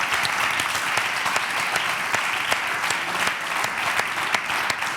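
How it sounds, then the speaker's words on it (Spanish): Audience at a live interview event gives steady, moderately loud applause with distinct individual claps audible throughout, continuing evenly for several seconds without talk. "aplauso para Ixabre Romanos que está aquí, de verdad."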